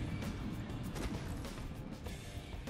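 Glass shatters in the Apex Legends Season 4 video game, with a few sharp crashing impacts over a busy, noisy game soundscape.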